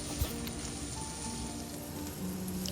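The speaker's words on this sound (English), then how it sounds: "Add in the shelled and deveined prawns with tail intact." Shelled, deveined prawns with tails intact sizzle in a hot wok, a steady dense crackling fry at moderate level with a faint clatter near the start.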